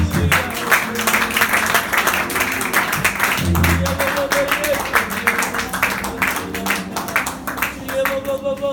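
A church conference congregation claps and cheers, with dense, sustained applause throughout and voices mixed into the crowd noise.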